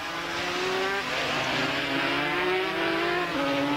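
Racing motorcycles, an Aprilia and a Two Brothers Racing 250 Honda, scream past on a race track with high, steady engine whine shifting in pitch as they pass, loud and close with no talk.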